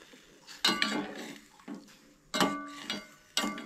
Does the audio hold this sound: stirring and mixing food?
yes